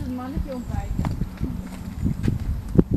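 Horse hooves clopping on the ground at an outdoor photo shoot, irregular steps close by under constant chatter from several people.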